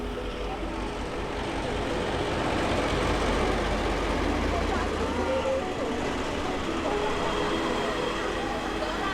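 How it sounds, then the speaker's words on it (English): Taiwan's oldest passenger train, revived for a sightseeing run from Taitung to Fangliao, rumbles past at steady volume for the whole stretch, a broad continuous roar with faint background voices from a gathered crowd. "Are you excited to see the train go by?"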